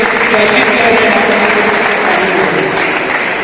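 Crowd applause at a school sports ground inauguration ceremony honoring physical education teachers, loud, dense and sustained clapping with a murmur of voices beneath.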